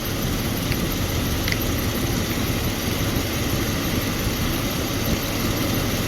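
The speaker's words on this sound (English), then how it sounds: "I'm just running the engine to kind of warm it up so that way the oil will come out a lot easier." A Chevy Silverado 4.3L V6 Vortec engine idles steadily while warming up before an oil change, a constant low rumble with no speech.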